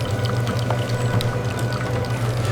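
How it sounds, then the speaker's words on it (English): Melted chocolate coating pours in a continuous waterfall over ice cream bars moving along a factory production line, a steady close rushing flow over a constant low machine hum. "A continuous waterfall of melted coating flows over them as they pass underneath."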